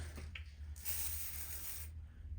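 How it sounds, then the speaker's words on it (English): An aerosol can of brake cleaner sprays in a steady hiss for about a second, over a low constant hum, after a couple of small clicks. "this is just a bottle of brake cleaner. And what I'm going to do is spray it on there"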